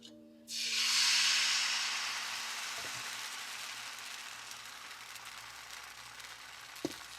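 Rice flour batter for Bengali hilsa pitha is ladled into a hot, oiled pan and bursts into a loud, steady sizzling hiss that slowly fades, with a faint clink near the end.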